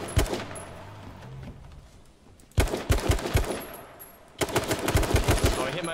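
Bursts of automatic gunfire in H1Z1 King of the Kill ring out while a vehicle drives along: a short volley, a pause over engine hum, then two longer rapid rattles, loud and close.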